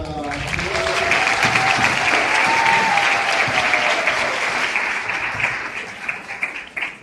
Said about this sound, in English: can we get another round of applause for